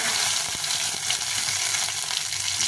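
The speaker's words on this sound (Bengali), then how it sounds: "শুকনো লঙ্কা, জিরে আর তেজপাতাটা ফোড়নে দিয়ে দিই।" Dried red chillies, cumin seeds and bay leaves crackling in hot oil for tempering, a close, loud continuous sizzle with small popping spits and a soft stirring scrape, no talking.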